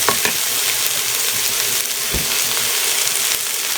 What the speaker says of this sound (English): Okay, so now I'm going to stir fry this for about another 45 seconds to a minute.